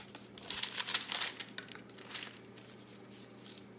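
Parchment paper crinkles and rustles in quick, faint handling bursts while meringue is spread on it, close by and with no talk.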